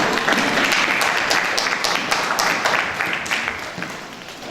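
Church congregation applauding after a Bible reading, a dense wash of many hands clapping with some sharper individual claps, loud and steady, easing off slightly toward the end.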